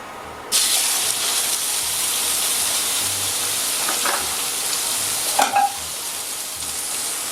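Veal roast seared in hot butter in a frying pan: a loud, steady sizzle starts abruptly and runs throughout, with brief crackles and spatters near the end and no talking.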